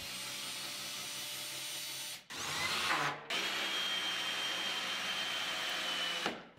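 A power drill fitted with a Milescraft Drive90PLUS right-angle attachment whirs steadily at high speed, stops briefly, then spins again in a second sustained run before cutting off, loud and close.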